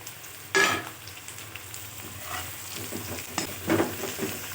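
Brinjals for Karnataka-style ennegayi curry are stirred into a frying garam masala base: a soft, steady sizzle with a few sharp scraping bursts from the stirring, close and without voices.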